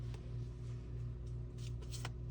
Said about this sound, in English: Was I shuffling?